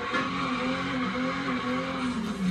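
A 1987 Buick Grand National GNX in a video game skids under the e-brake mid-turn, a sustained tire squeal over a droning engine, loud and continuous for a couple of seconds.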